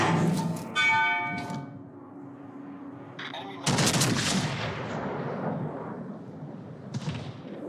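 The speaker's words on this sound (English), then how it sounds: "Despite shooting my guns pretty quickly, I'm not getting my funny button loaded." The USS Wisconsin battleship's guns fire in a naval combat video game, two heavy, booming salvos with long rumbling decays. Metallic ringing tones and other game effects sound between the shots.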